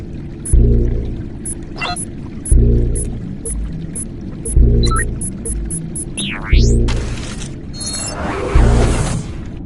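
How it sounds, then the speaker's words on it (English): A deliberation fountain in the Jackbox Party Pack 6 video game pours and gurgles beneath a low, throbbing musical loop that pulses roughly every two seconds, with electronic chirps and sweeping bleeps rising over it. "that deliberation fountain, that ain't water"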